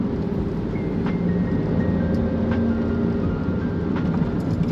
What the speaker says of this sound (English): Let's see what this Jaguar 5-speed is capable of.